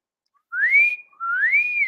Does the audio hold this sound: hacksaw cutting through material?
no